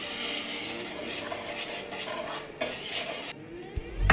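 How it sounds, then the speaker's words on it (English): Flour, salt and other dry ingredients are whisked in a mixing bowl, a quick continuous scraping rattle of wire against the bowl, ending in a few clinks and a knock. "Whisk it together."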